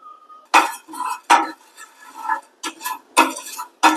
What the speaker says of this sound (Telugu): గసాలు, మిరియాలు, ఇలాచి, లవంగ అండ్ దాల్చిన చెక్క దోరగా మనం ఫ్రై చేసుకోవాలి.